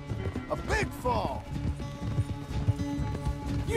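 A horse gallops in Red Dead Redemption 2, quick rhythmic hoofbeats running steadily beneath men calling out to each other during a race.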